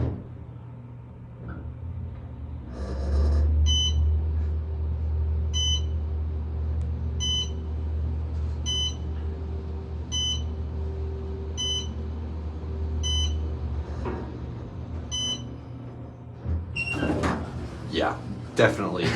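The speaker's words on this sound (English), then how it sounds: "That has like the most quintessential 2010s Otis geared machine noise" Otis geared traction elevator machine, 2000s–2010s era, in a hotel near O'Hare, humming steadily with a low drone, sharp repeated beeps ticking at even intervals over it, a door-like clatter near the end, people talking briefly.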